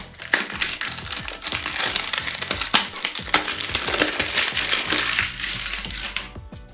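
An Advan G5 phone box is handled during unboxing, giving a steady run of close crinkling, scraping and crackling cardboard and plastic packaging noises with frequent small clicks and no talking.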